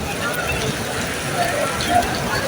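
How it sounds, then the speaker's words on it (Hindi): Steady wet hiss of rain falling at the Prophet's Mosque in Medina, continuous and fairly loud, with faint tones and murmurs underneath. "बारिश हो रही है अल्हम्दुलिल्लाह"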